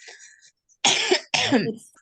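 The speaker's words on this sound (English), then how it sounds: "Apology for me coughing" Two sharp, harsh coughs in quick succession, close and loud, after a brief breathy sound and a short silence.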